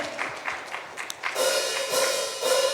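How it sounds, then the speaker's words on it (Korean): A church congregation claps during a Sunday worship service. Scattered claps at first swell into steady, full applause that fills the room. "하나님께 박수를 영광 올려드리겠습니다."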